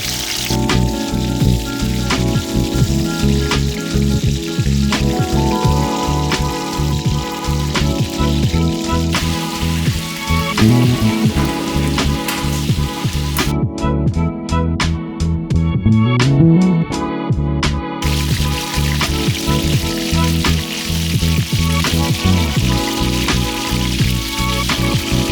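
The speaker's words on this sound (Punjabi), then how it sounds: "ਲਓ ਜੀ, ਬੜੀਆਂ ਆਪਣੀਆਂ ਹੋ ਗਈਆਂ ਫਰਾਈ" Soya chunks fry in a pan, a loud continuous crackling sizzle that runs throughout, with busy clinks and layered background noise.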